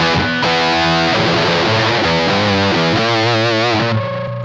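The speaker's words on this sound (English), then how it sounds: "I switch to the dirty channel." Heavily distorted electric guitar chords through the dirty channel of a Donner Black Devil pedal, a Peavey 6505 clone, ring out loud and continuous, with a thick, saturated crunch sustaining across several changes.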